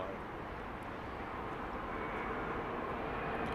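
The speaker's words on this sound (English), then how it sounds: "that's a third new livery Saudi jet we've seen today" A Saudi jet airliner in new livery arrives at London Heathrow, its engines a steady, distant broadband roar that holds evenly throughout with no voices.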